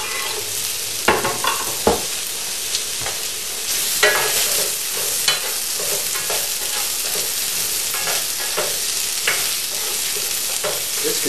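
Juicy tomatoes and added liquid sizzle steadily in a frying pan, a continuous close hiss with occasional stirring scrapes and clacks, no talking.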